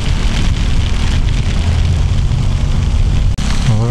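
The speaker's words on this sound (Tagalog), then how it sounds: "Grabe, galit na galit yung ulan." Heavy rain pours down during a ride on a Zontes 400G motorcycle in a storm, a dense, steady roaring wash with wind rumble, loud and unbroken apart from one brief dropout near the end.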